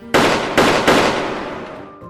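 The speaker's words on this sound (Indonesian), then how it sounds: "tembakan dilepaskan." Three loud gunshots crack close by in quick succession, each a sharp blast with a long fading echo, with no voices.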